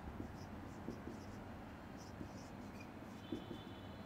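Quiet handwriting during a language lesson: soft, scratchy pen or marker strokes in short repeated bursts, faint and close, with no talking.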